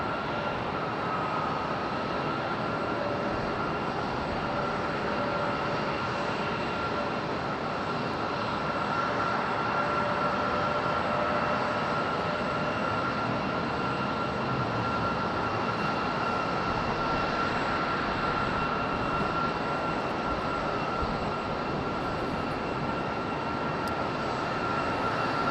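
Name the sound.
airliner jet engines at Raleigh-Durham airport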